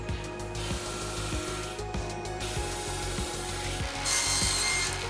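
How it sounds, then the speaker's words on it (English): Continuous grinding and rasping of wooden boards being sanded to thickness in a sander, steady and loud with a rhythmic pulsing underneath. "on over to the sander so that I could sand them down to the proper thickness"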